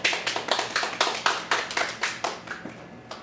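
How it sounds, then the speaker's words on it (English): A small audience at a Vancouver open mic comedy night claps in a loose, uneven burst of hand claps lasting a few seconds, close and moderately loud, with no one speaking. "Yes, everyone give me a good clap."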